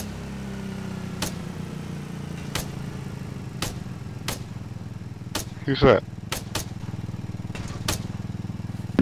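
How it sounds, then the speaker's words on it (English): Low, steady chugging of a tractor-like vehicle engine in the video game Arma 3, idling with a rough mid-pitched drone, overlaid by sharp clicks and a brief spoken voice. "What's that tractor noise? Like a lawnmower behind me."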